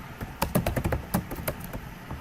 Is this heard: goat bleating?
no